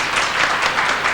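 An audience cheering section applauds, giving a dense, steady wash of many hands clapping at close range with no talk over it.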